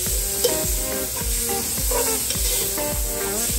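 Leeks, thyme and garlic fry in a hot pan while a utensil stirs them, producing a steady loud sizzle broken by repeated rhythmic scraping strokes close by.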